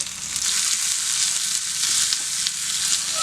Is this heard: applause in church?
no